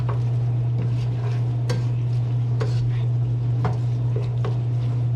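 A spoon stirs chili with meat and spices in a pot, scraping and clinking softly under a steady low hum, with occasional quiet scrapes and faint talk.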